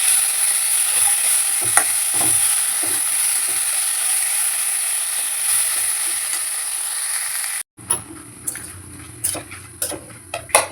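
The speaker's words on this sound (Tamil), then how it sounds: "எல்லாத்தையும் வதக்கணும்." Pepper, garlic, cumin, tamarind and tomato sautéing in a pan: a bright, steady sizzle with light stirring taps for most of the stretch, then the sizzle cuts off and a few sharp utensil knocks follow.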